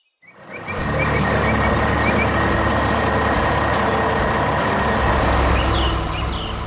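A large truck from a 3D animation drives steadily, its loud engine rumbling up within the first second and holding constant, with a repeating high beeping tone over the drone and no speech.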